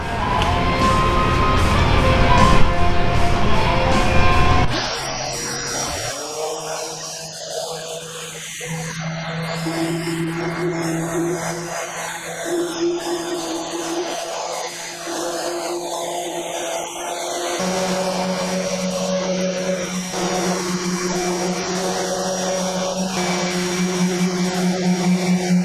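A steady, loud sander drone stripping paint from a C4 Corvette's front end, with a vacuum whirring alongside, running continuously without pause; no one speaks.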